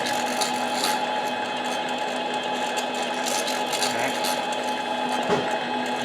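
A 7x10 mini lathe turns a Husky 372 chainsaw cylinder at slow RPM, giving a steady, moderately loud mechanical whine and hum with a faint rattle throughout.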